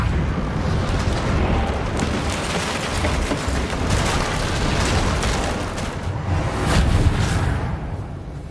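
A Reparo repair spell from the video game Hogwarts Legacy, cast on a battered bridge, sounds as a sustained, dense magical rumble and whoosh that stays loud and steady throughout, swelling slightly near the end, with no voices.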